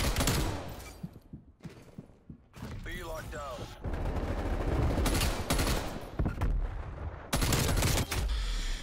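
Rapid bursts of KSP 45 submachine gun fire in a Call of Duty Cold War match, loud and close, with short pauses between volleys and some voice over parts of the action.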